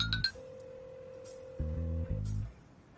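A phone rings with an incoming call back in a dubbed drama scene: a steady electronic tone holds for about two seconds, joined by a brief buzzy chime, fairly quiet.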